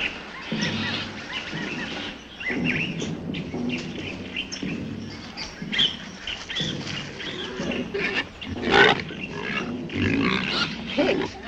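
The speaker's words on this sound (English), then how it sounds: "Wild pigs. They can be mean." Wild pigs grunt and squeal in irregular bursts outdoors, moderately close, mixed with bird chirps and a busy, rustling background.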